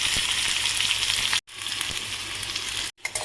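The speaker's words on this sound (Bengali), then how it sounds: "এবারে দিচ্ছি পেঁয়াজ, একটা পেঁয়াজের হাফ।" Half an onion frying in a pan, a loud, close, continuous hiss of sizzling oil that cuts out briefly twice, with no talking.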